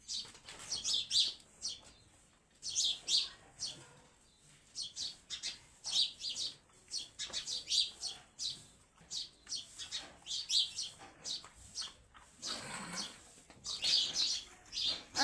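Chicks chirping steadily in the morning while being fed grain, a busy stream of close, high tweets and calls in repeated bursts with short gaps, no talk over them.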